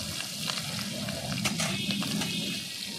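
Slit green chillies and crushed garlic hit hot oil with nigella seeds, giving a steady close sizzle and crackle that runs unbroken with a few sharper pops, and no voice over it.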